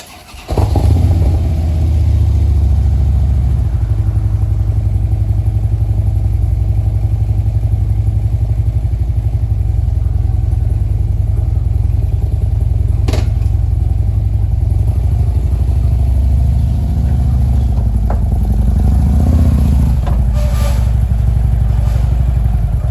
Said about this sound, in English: now you're about to see me take and load the motorcycle onto the trailer